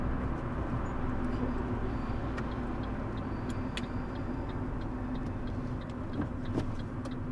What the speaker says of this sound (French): on accélère et on met la 3